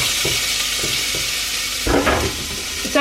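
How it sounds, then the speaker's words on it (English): Chopped onions cooking in a pot, giving a steady loud sizzle throughout with a few spoon scrapes and stirring clatters near the end, no talking. "we're just gonna blend it up later anyway. It's fine. Just gonna let them cook for a couple minutes"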